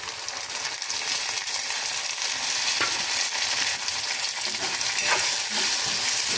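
Ground tomato is stirred into a fish curry in a pan, giving a loud, continuous sizzle with scraping spoon strokes and occasional clinks against the pan, close and without voices.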